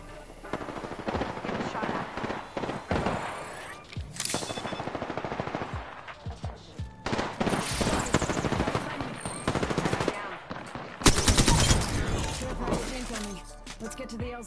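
Bursts of automatic and single gunfire from a first-person shooter game, loud and dense, with rapid rattling volleys, sharp cracks and a shattering crash, firing stopping and restarting across the span.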